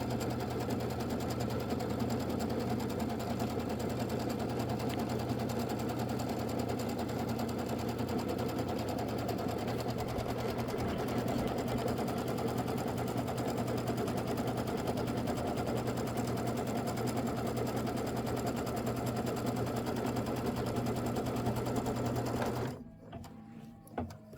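A sewing machine runs steadily and continuously, stitching the border of a Christmas quilt wall hanging, with a dense even mechanical hum that stops abruptly near the end.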